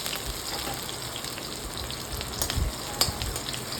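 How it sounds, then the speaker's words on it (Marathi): Green chillies and finely chopped curry leaves sizzle in hot oil in a kadhai, a steady close crackling hiss with a few louder pops near the end. "कढईत तेल तापल्यावर त्यामध्ये मिरची घातलं आहे थोडंसं कढीपत्तो बारीक चिरान घातलं आहे"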